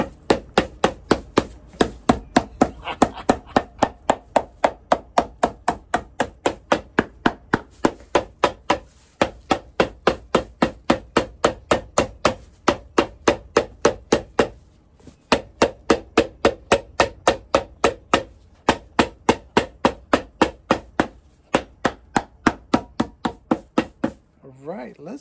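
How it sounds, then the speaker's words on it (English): A hammer strikes the midsole of a shell cordovan Alden shoe in long, steady, loud rhythmic runs of sharp knocks, broken by a few short pauses. "But this is just the midsole hammer time."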